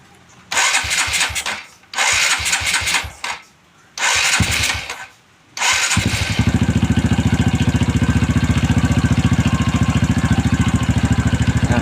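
A motorcycle fitted with an N-Pro carburetor is cranked in several loud starting attempts separated by pauses, then catches and settles into a steady, close, rapid-firing idle to warm up.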